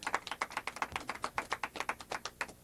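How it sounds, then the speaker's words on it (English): Steady, rhythmic hand clapping from a game show audience welcoming a contestant, with crisp, evenly spaced claps that sound like only a few people rather than a full crowd, heard clearly without talk. "Give him a big round of applause"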